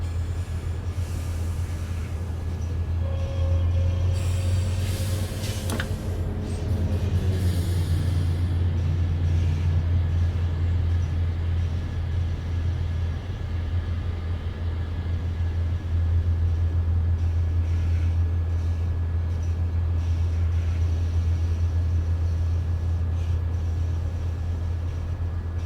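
Simulated Metrolink commuter train on the San Bernardino Line in Train Sim World 5, a constant deep engine rumble with steady rolling noise, a horn-like tone sweeping down early on, loud and continuous with no talk.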